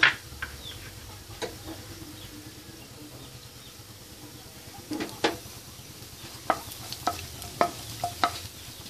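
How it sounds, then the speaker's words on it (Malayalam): Chopped cashews frying in hot ghee for Kerala unnakkaya give a faint, low sizzle, with scattered soft ticks and spoon clinks near the pan; no voices. "ഇനി ഇതിലേക്ക് ചൂടായ നെയ്യിലേക്ക് ചെറുതായി മുറിച്ചെടുത്ത അണ്ടിപ്പരിപ്പ് ചേർക്കാം"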